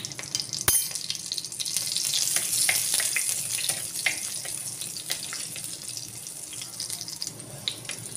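Garlic and chopped ginger frying in hot ghee in a clay pot, a steady watery sizzle with scattered crackles and one sharp clatter near the start.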